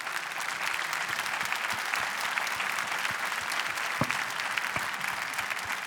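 Sustained audience applause at a business conference event with government leaders, an even, moderately loud wash of many hands clapping that holds steady throughout.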